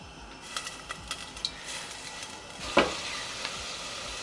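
Tuna dropped into warm oil on a stovetop pan while making kimchi jjigae gives a steady, soft sizzle with scattered light crackles and a sharper clatter near the middle, fairly quiet and close.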